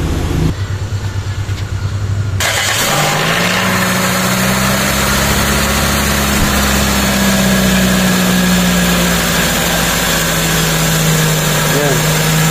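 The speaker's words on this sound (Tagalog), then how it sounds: "Banda rin po natin yung makina para yung tubig dito umikot sa engine block" A Toyota car engine idles steadily up close during a radiator and engine block flush, a continuous low mechanical hum with some vibration, after a brief burst of noise at the start.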